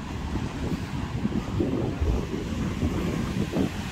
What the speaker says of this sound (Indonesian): berangin ya, anginnya lumayan besar